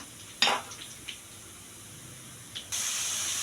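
Ingredients are sautéed in a pan for pancit guisado, with a sharp sizzle burst as food is stirred, a few clinks of utensil on the pan, then a loud steady hiss of frying.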